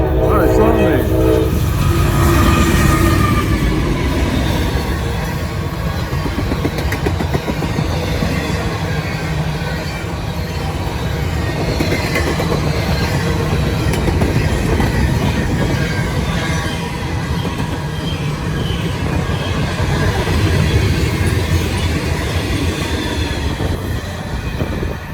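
A long CSX freight train rumbles past a railroad crossing continuously and loudly on a cold day, with steady wheel clatter and grinding, and a horn sounding near the start.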